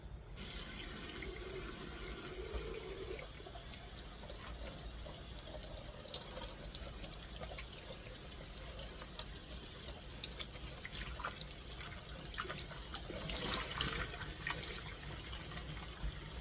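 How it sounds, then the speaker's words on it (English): Dyed yarn, a saturated fuchsia, rinsed under a running tap in a sink, with steady water splashing and trickling throughout, fairly close and continuous, with some denser spray near the end; no talking. "rinse your yarn and just keep changing out the water until it runs clear"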